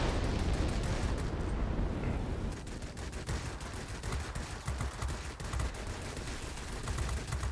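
Forward guns of a Tu-10 bomber in World of Warplanes fire in a dense, continuous rattling barrage, loud and close with heavy booming rumble underneath.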